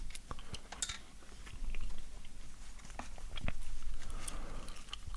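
Up-close, moist chewing of a slice of gum, with soft wet smacks and clicks repeating irregularly against a quiet background, alone without talk.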